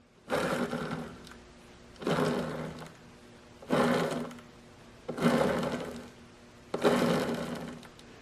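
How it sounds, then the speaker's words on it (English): A rough grinding whir swells and fades in five regular cycles, like a worn bearing rumbling as a wheel turns, close and fairly loud. "you can hear the bearings turning because it's not good"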